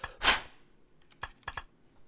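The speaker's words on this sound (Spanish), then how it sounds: "¿Escucháis el pad este? ¿Cómo suena?" A game controller's buttons click and clack while someone plays the Fishing Paradiso fishing game, with one louder rattling press followed by a few sharp, sparse clicks close to the mic.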